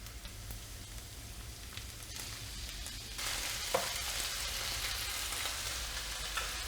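Cooked beef and onion stir-fried in a pan for a Chinese beef with bean sprouts dish, a steady close sizzle that grows louder partway through, with occasional utensil scrapes and no talking.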